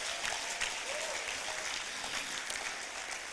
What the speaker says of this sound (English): Please, can you give yourselves a round of applause?